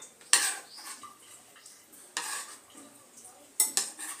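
Stirring onions and tomatoes in a cooking pan for a Kenyan street-food snack: three short bursts of clatter and scraping at a steady pace, close and moderately quiet, with soft sizzling faint in between.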